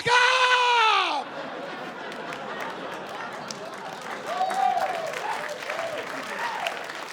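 Comedy club audience applauding and cheering for a few seconds, loud and dense, then fading into scattered murmurs, claps and laughter from the crowd.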